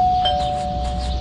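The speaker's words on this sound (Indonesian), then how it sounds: "Kita coba bel dulu lah, biar dia masuk dulu ke sini." A doorbell in the video game Scary Teacher 3D rings with a single sustained electronic tone, clear and fairly loud with no talk.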